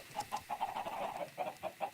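Chickens on a video game egg farm cluck in short, rhythmic bursts, close and fairly soft, with a brief continuous run of clucks in the middle and no talking.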